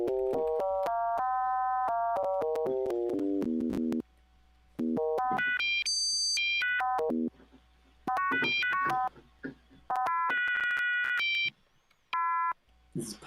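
Synthesized tones in Kyma sonify the digits of pi as a run of bright electronic beeps stepping up and down in pitch, with short pauses and a sustained high passage, alone without talk.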